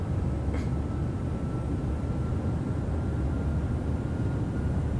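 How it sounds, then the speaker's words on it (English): Steady broadband cabin roar of a PMDG Boeing 737-800 in flight in Microsoft Flight Simulator 2020, a continuous low rumble with a faint hiss on top, unchanging and alone. "can you actually hear the noises in the plane?"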